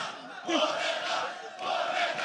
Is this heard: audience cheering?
yes